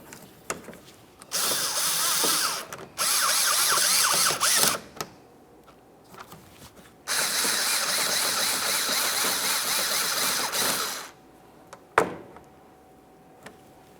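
A power tool drives mounting bolts into a 2017-2023 GMC Acadia front inner fender liner: close, loud whirring bursts of two to four seconds separated by pauses, ending with a sharp click, with no talking.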